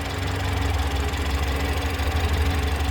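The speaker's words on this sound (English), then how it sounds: "engine is idling happily off of a cold start. I'll let you hear it uninterrupted for a moment." A 2018 BMW X3 xDrive30i's 2-liter turbocharged four-cylinder idles after a cold start, a steady low hum with a faint rhythmic ticking pulse, close and uninterrupted with no talk.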